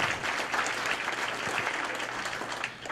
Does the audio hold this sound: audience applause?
yes